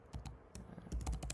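Keys on a computer keyboard clatter in a quick, uneven burst of clicks, close and fairly quiet, while someone types a code query with no talking.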